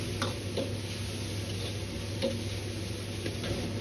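Shredded pork stir-fried with green beans and red chili strips in a hot wok, a steady sizzle with occasional sharp clicks and scrapes of tossing, no voices.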